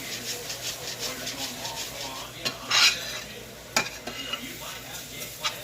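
Okra frying in butter in a pan gives a steady close hiss of sizzling, broken by a few sharp clicks and scrapes of a utensil stirring and turning the pieces.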